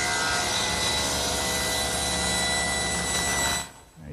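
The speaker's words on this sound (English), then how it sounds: "So I've set up my table saw with what's known as a thin kerf saw blade." Table saw fitted with a thin kerf blade ripping narrow wood strips about 3/16 inch wide against the rip fence, a loud steady whine with broad roar running continuously, then cutting off sharply near the end as the blade spins down.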